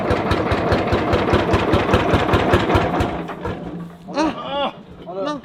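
A Lanz Bulldog two-stroke tractor with a 10-litre single cylinder runs loud and close with a steady, rapid thumping beat, then cuts out as people talk over the quieter end.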